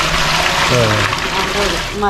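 Water poured into a pot of soaked pearl millet for traditional porridge, giving a continuous splashing pour with a voice talking over it.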